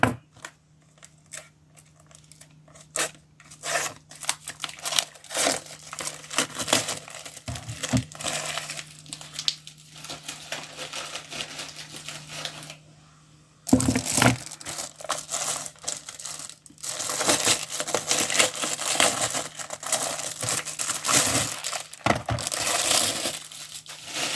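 Parcel from an online order being opened, loud close crinkling and crushing of plastic packaging in busy bursts, with rustling and tearing continuing after a brief pause.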